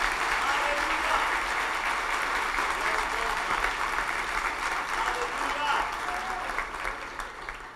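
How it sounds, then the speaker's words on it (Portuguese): A church congregation applauds steadily for several seconds, a dense, loud wash of clapping that tapers slightly toward the end, with faint voices mixed in. "Você pode aplaudir ao Senhor?"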